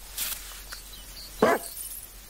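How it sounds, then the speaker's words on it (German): A cartoon dog in a barking contest gives one sharp, close bark after a short pause, with only faint sounds before it and quiet afterward. "Wir machen einen Bellwettbewerb."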